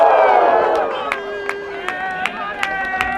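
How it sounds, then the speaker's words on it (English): Crowd at a high school football game in the stands, a roar of voices fading into a run of sharp, evenly spaced claps that repeat about six times over steady crowd murmur. "Can I get 2 claps and a Ric Flair, please?"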